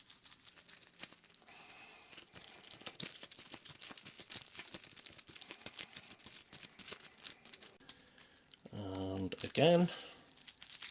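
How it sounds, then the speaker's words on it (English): Arkham Horror card game cards being shuffled by hand, a run of soft crisp riffles and slides close by, with a brief spoken word near the end. "Good old shuffle."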